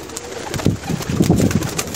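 Pakistani flying pigeons coo softly in a short, close burst of low throaty calls, a few overlapping murmurs with no voices over them.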